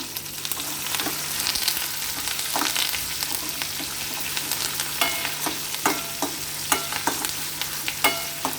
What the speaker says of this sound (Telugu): మినపగుళ్ళు కొన్ని ఆవాలు అలాగే కొంచెం జీలకర్ర కరివేపాకు ఇవన్నీ వేసి వేసుకోవాలి మనం